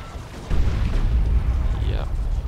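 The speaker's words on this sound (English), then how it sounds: "grenade on the scouts" A grenade explodes on scouts in the video game Dawn of War 2: a sudden deep boom with rolling low rumble that lingers, under spoken game commentary.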